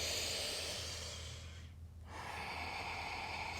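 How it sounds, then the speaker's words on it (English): A slow, deep breath with a soft airy exhale during a calm prenatal yin yoga session, close and gentle over a steady background hum. "And breathe."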